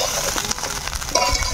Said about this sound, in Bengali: ইনকে আমরা কিন্তু চালগুলা অনবরত নাড়তে থাকবো।